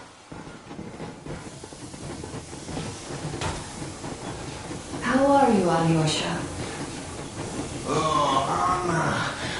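The Yermak steam locomotive rolls along in the video game Metro Exodus, a steady rumbling hiss of the moving train that builds and stays loud throughout, with voices talking over it.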